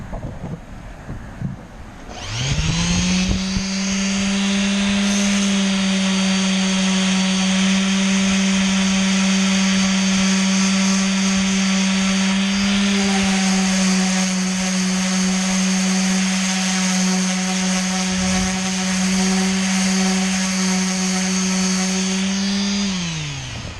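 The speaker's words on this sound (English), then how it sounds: "I'm just sanding those smooth." An electric sander whirs up and runs steadily at a high, constant whine with a gritty grinding texture, close and loud, sustained for the whole stretch, smoothing epoxy-filled holes on a boat.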